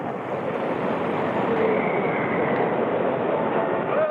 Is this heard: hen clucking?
no